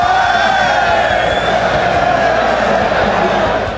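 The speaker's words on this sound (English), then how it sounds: "It's so nice to be in a full arena and see all those people that are cheering for the same thing" A full arena crowd at an LCS event in London cheers and roars continuously, a dense loud wall of voices with shouts rising out of it and no pause.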